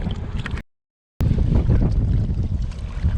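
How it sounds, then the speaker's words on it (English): Strong wind buffets a pond during float tube fishing, a loud steady roar of gusts across the microphone that breaks off into a short dropout before resuming with full force. "we're getting so much more wind than the forecast called for"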